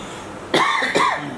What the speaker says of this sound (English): Apologies, I got a cough.